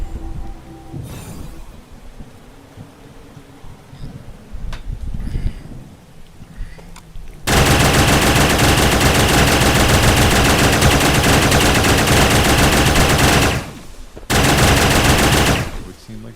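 Sustained rapid automatic gunfire from the Starbound video game, loud and dense, roaring continuously for several seconds, breaking off briefly, then resuming after quieter scattered game sounds.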